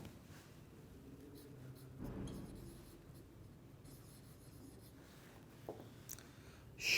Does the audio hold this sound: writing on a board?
yes